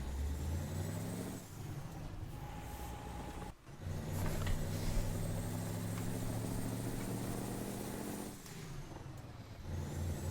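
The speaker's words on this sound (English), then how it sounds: "I love the noise it is, the turbo noises" An Iveco 190-38 truck in Euro Truck Simulator 2 drones steadily through its engine for the whole stretch, with a high turbo whine riding on top and one brief dip partway through as the throttle lifts.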